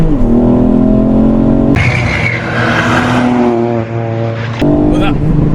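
A tuned Ford Fiesta ST Mk8 with a 3-cylinder hybrid turbo engine is driven on a track, revving loudly through sharp gear changes, with the engine note dropping and climbing again, heard from inside the car.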